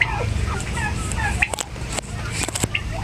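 Bourbon Red turkey cock gobbles ring out in short bursts over a steady low rumble, with a few sharp knocks and clatters mixed in.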